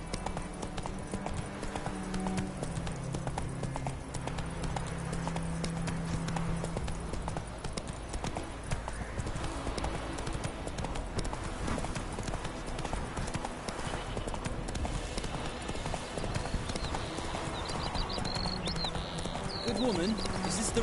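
Steady, rhythmic hoof clip-clops from the horse Roach trotting along a road in The Witcher 3, continuous throughout under game music and ambience, with a voice speaking at times.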